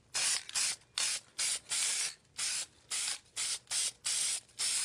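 An aerosol spray paint can sprays in about a dozen short, evenly spaced bursts, each a crisp close hiss with brief silent gaps between them.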